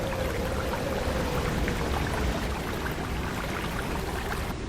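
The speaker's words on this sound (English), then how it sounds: "parting the water with your hand to create a soft, refreshing sound" Warm pool water in a cave stirred by a hand sliding through it, a steady soft splashing and trickling wash that continues evenly throughout, close and moderately loud with no voices.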